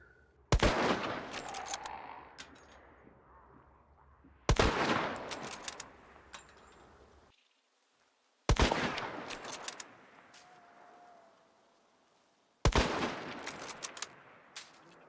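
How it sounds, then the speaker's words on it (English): Video game gunfire striking a series of different surface materials, heard as four separate loud bursts spaced a few seconds apart, each with a sharp crack and a ringing, decaying tail. Between bursts it goes quiet. "in this video, we're showing the different materials and how it sounds on those"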